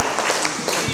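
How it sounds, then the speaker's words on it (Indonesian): A student group in a classroom receives applause, heard as a short, steady burst of clapping from many hands close by. "aplaus untuk kelompok"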